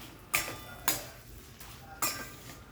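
Kolabi pulav rice is mixed with ghee in a pot. Three sharp metallic spoon knocks against the pot come at uneven intervals, with a quiet scrape between them.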